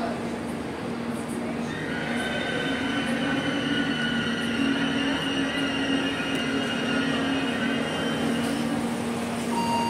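A passenger train in Israel rumbles steadily from inside the carriage, with a continuous rolling roar and faint high wheel squeal running throughout.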